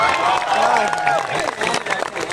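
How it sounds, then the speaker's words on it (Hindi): Applause from a poetry recital audience at a kavi sammelan held at Mumukshu Ashram in Shahjahanpur, a dense steady wash of clapping and crowd noise filling the whole brief moment at fairly close range. "जब ऐसी पंक्ति पर ताली आती"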